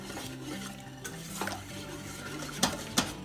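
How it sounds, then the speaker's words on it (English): A whisk stirs white chocolate into hot cream, making soft, steady swishing with a few sharp clicks against the bowl, fairly quiet and close. "we're just going to whisk that until it is completely melted"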